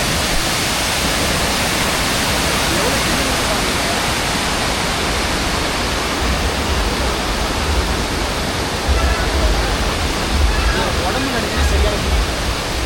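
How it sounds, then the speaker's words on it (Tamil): Loud, continuous rush of water pouring from a pipe close by, a steady hiss with a low rumble underneath. "ஃபில்டர் இல்ல, நேரா தண்ணி அந்த பைப்ல வருது."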